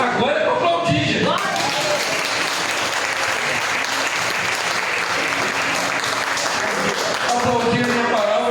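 Church congregation applauding together, a broad sustained wash of clapping filling most of the moment, with a voice speaking over it at the start and end.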